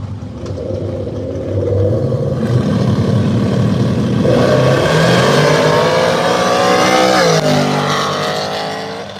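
Drag race launch of a Mustang and an S10 at an arm-drop event: a rising roar of revving engines swells loud and close, holds a sustained howl of acceleration with shifting pitch, then fades as the cars pull away.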